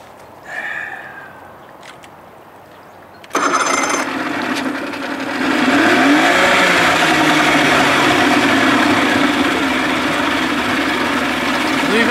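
A 1987 70 hp Johnson outboard motor that stalls under load, idling while warming up: a brief sniffing noise and quiet lull, then the engine catches and settles into a loud, steady idle drone.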